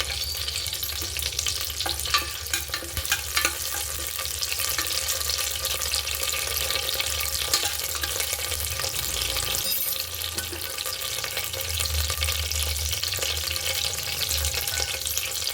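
Mustard seeds and curry leaves fry in hot oil for bitter gourd gojju, making a dense, steady sizzle and crackle close by, with faint stirring and no speech.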